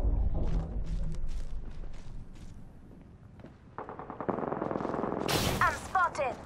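Gunfire rattles through a video game skirmish as a burst of rapid shots, with dense loud firing near the end over continuous game ambience.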